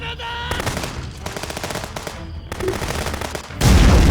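Sustained gunfire from a police shootout at a sawmill in the video game Contraband Police, with rapid automatic bursts rattling continuously and a heavier, louder volley near the end.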